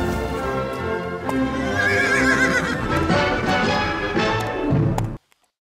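A horse neighs loudly in a long, wavering whinny with clip-clop hoofbeats around it, close and continuous for about five seconds, then cuts off into silence.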